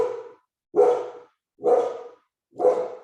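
Dogs at home barking at a delivery person at the door: four loud, evenly spaced barks with short silent gaps between them, close to the microphone.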